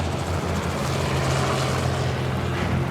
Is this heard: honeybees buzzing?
no